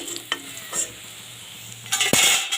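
Bitter gourd frying in oil in a home kitchen, steady soft sizzle with occasional scrapes and clinks of a spatula stirring, ending in a louder burst of sizzling and stirring.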